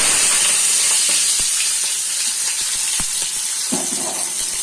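Sugar and chopped tomatoes sizzle in hot oil for a Bengali mushroom masala, a steady close hiss broken by small pops and spatters, with no talking.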